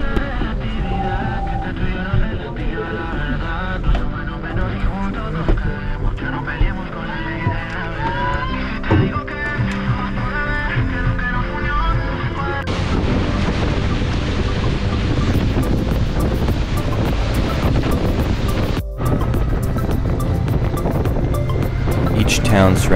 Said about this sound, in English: It's far more efficient to take the boat taxis across the lake rather than drive from town to town.